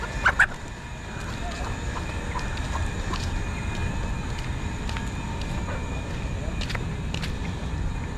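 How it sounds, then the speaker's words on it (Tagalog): Chickens clucking close by, a few sharp calls at the start and scattered clucks over a steady background hum. "Yung mga manok natin, oh, kinakawanan na natin"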